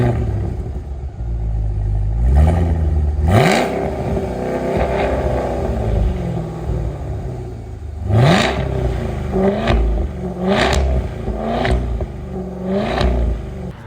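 A Cadillac Escalade V's 6.2-liter supercharged V8 revs repeatedly up close, each sharp rise in pitch followed by a rumbling drop back to a burbling idle.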